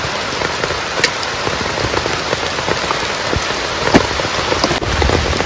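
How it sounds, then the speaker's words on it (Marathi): Heavy rain falling at a riverside camp where a hut is built for fishing, a loud, steady downpour with sharp drops pattering on nearby surfaces and a few louder splats, no voices. "जोरदार पाऊस आला."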